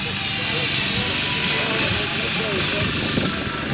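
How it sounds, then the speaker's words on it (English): A steam engine hissing and fizzing steadily at an outdoor steam and vehicle rally, a continuous broadband rush with low mechanical rumble beneath, close by and fairly loud throughout. "Steam machine just fizzing away."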